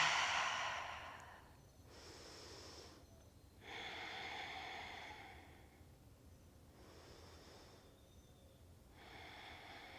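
Slow, deep breaths during a yoga session for shoulder tension, with long audible exhales and breaths alternating at a steady pace. Close, soft and unhurried, with no talk over them.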